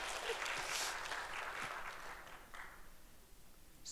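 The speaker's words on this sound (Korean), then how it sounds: "박수를 한번 쳐주세요, 여러분." A church congregation at a Sunday service bursts into broad applause, a dense wash of many hands that swells and then slowly thins out, fairly distant and soft in level.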